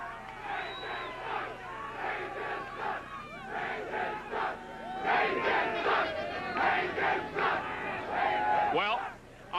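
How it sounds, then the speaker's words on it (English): Ice hockey arena crowd at a 1980-81 Islanders versus Rangers game, loud sustained cheering, chanting and shouting from many voices filling the whole stretch, rising in waves. "as you can hear, the crowd, a slightly biased crowd"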